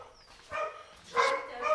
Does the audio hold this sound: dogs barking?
yes